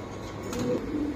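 A big male pigeon courting a female already placed in the cage gives a single low, throaty coo, close by and lasting only a moment.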